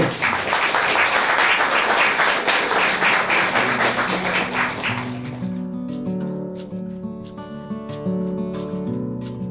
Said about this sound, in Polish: wielkie brawa, przywitajmy